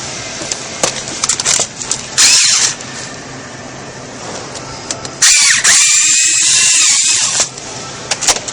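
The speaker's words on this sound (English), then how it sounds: "And then we're going to pilot first hole. Put our screw in." Cordless power drill piloting a hole and driving a screw into an ACC exhaust filler panel on a Chevy Corvette C6, heard as two loud bursts of whirring, one short and one longer, over quiet workshop background.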